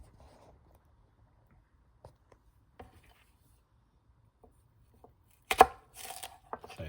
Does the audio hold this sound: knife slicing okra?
yes